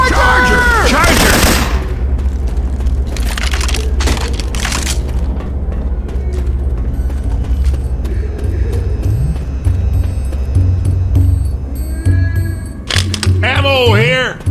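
Syphon Filter weapon sounds replace the gunfire in Left 4 Dead 2, with loud, dense cracks and booming shots firing continuously under game noise and character voices calling out.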